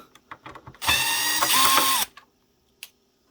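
A DeWalt DCF601 cordless screwdriver whirs loudly for about a second, its motor pitch shifting partway through, followed by faint clicks and handling noises.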